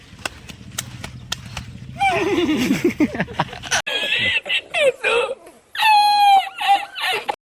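A man imitates a horse with his voice, first a rhythmic clip-clop of galloping hooves and then several loud, close neighs and whinnies, with chuckling mixed in.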